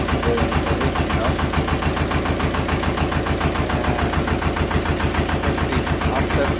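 A 1960s Pasquali tractor engine runs at a steady idle, close and loud, with an even, rapid putter and no pauses or voices.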